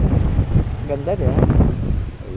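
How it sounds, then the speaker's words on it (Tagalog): Strong wind buffets the microphone during a Skydrive 125 scooter ride on the Marilaque road near Tanay, a steady low roar with a voice briefly talking over it. "ang hangin, grabe, lakas ng hangin."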